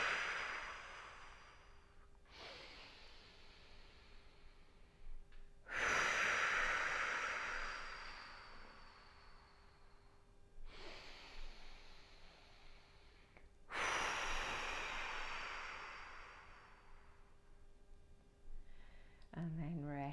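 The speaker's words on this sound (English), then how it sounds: "Taking that expansive inhale." Several long, deep breaths drawn in and let out during slow pelvic floor breathing practice, each broad airy rush swelling and fading with pauses of quiet between, close and fairly soft.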